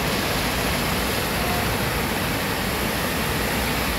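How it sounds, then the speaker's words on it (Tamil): Rainwater runs heavily down a street after a downpour, a dense, steady broadband rush of flowing water that carries on without a break from start to finish. "பாருங்கள் எவ்வளோ தண்ணி போகுது."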